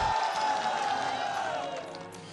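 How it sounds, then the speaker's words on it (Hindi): A studio audience at a televised panel debate applauds a guest with a broad wash of clapping and some cheering. The applause is loud at first and then gradually fades. "तालियों के साथ स्वागत कीजिए"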